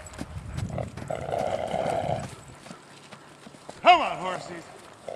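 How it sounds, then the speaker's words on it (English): Horses move over ground alongside running Irish Wolfhounds in autumn amid rustling and low rumble, then a sharp whinny rings out near the end. "Get those horses running."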